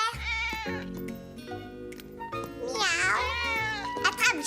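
A child imitates a cat, voicing drawn-out, wavering meows in a playful cartoon scene, loud and close, with music or other voices around the calls.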